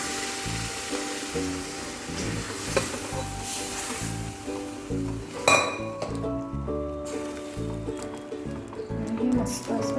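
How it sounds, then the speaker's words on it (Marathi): Ragda mixture being stirred in a pan, with a spoon clinking against the metal and a soft sizzle underneath, while someone speaks over the steady scraping. "हे मस्त असं ढवळून घ्यायचं."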